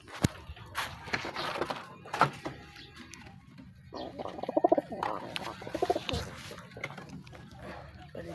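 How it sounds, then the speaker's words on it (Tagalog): Pigeons coo in low, soft bursts at close range over a steady background hum, with a few scattered knocks and rustles between the calls. "Yan mga kalapati."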